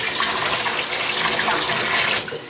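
Tap water runs steadily from an upstairs bathroom faucet to fill pots during a hot water outage, a continuous broadband rush that stays loud and close throughout before easing slightly at the end.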